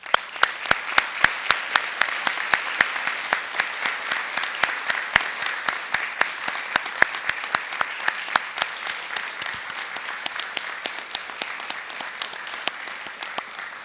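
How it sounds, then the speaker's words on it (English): Sustained applause from the audience at the 2021 Hanover College Honors Convocation, honoring award recipients: dense, steady clapping from a large crowd that continues without letup, with no talk over it. "one more big round of applause for all of our honorees"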